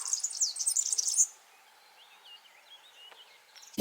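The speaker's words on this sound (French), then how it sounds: "Avec le chant des oiseaux." Birds sing outdoors during a sunny breakfast in Uzès, a bright twittering run at first, then thinner scattered chirps, moderately near and alone with no talk.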